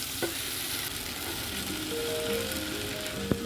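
Soaked sago pearls go into a pan of frying spices for vegetarian sabudana khichdi, giving a steady close sizzle with light stirring and a sharp clink near the end; no talking.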